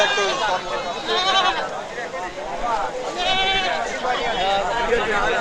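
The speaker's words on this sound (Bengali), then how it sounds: "দেশি জাতের ছাগল কালো ছাগল দেখেন" Many goats bleat overlapping and close at a livestock market selling local-breed goats, including black ones, with crowd chatter and voices underneath throughout.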